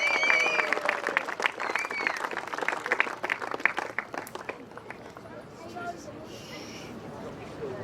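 Applause from a crowd at a speedway prize-giving after a Formula 500 A-Main final, dense clapping and cheers loud for about four seconds and then fading into scattered claps and crowd murmur.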